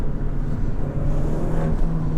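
A 2017 Abarth 595 Competizione engine revving while driving slowly, heard through a slightly open panoramic roof as a steady, close, buzzing drone with a slight rise near the end.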